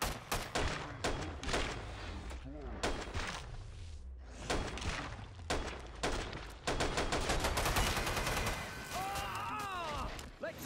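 Rapid gunfire in Killing Floor 2 in the Biotics Lab, repeated sharp shots in quick bursts with short pauses, loud and close, with game voices and metallic clanks in between.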